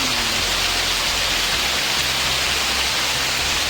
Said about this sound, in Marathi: पाऊस बघा कसला पडला आहे जबरदस्त